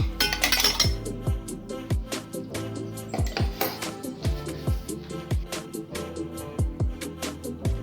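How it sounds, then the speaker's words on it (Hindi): Sesame seeds being mixed into khoya in a bowl for til laddoos, with a spoon clinking against the bowl in a steady rhythm of sharp, close taps. "तिल को मिक्स करेंगे।"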